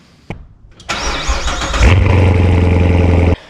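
A car engine cranks and catches inside a home garage, a sharp click then a rising whine that settles into a loud, steady idle close by before cutting off near the end.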